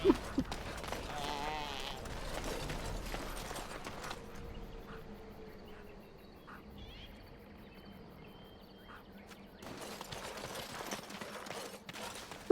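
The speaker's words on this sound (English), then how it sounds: "Especially their sheep-like noises." Creatures in Dragon Age: Origins let out sheep-like bleats amid insect-like chirring and game ambience, with the calls clustered at the start and again near the end and a quieter stretch between.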